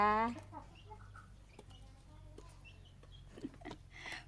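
Chickens kept for eggs cluck and chatter softly in short scattered bursts, fairly close but quiet, with a person speaking briefly at the start.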